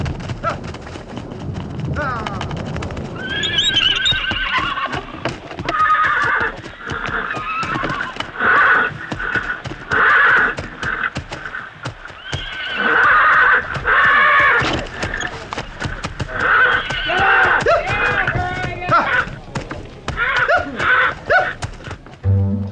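Wild horses on a reserve at a Blood rodeo neigh and whinny repeatedly while hooves thud and clip-clop, loud and close throughout, with a voice speaking over the commotion.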